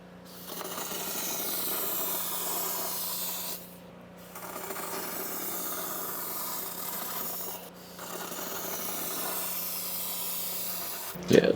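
A spray nozzle on a hose hisses steadily as it sprays rust coating inside a truck body, running in two long passes with brief pauses and a clunk at the end.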